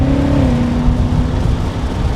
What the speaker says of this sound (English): let's go ahead and downshift. 6th gear, 5th gear, 4th gear, 3rd gear.